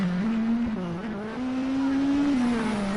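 A Citroen rally car drives a French stage in the WRC video game, its engine droning steadily. The pitch dips and then climbs gradually through the corners, loud and continuous.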